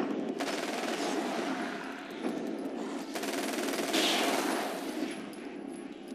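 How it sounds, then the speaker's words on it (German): Submachine gun fire in the video game Alan Wake's American Nightmare: dense, continuous bursts of automatic shots that stay loud and steady with no speech. "und schon ist die Munition für Maschinenpistole ein bisschen mehr aufgebraucht"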